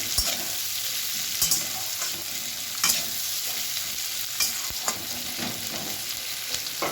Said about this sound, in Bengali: পেঁয়াজগুলোকে আমি হালকা লাল লাল করে ভাজবো